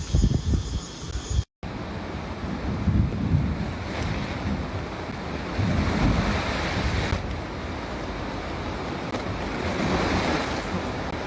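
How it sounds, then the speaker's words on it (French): Big ocean waves crash and roll onto a beach on Koh Phangan, Thailand, in repeated surges, with wind buffeting the microphone throughout; no one speaks. "Et là, franchement, mais il y a des vagues de fou."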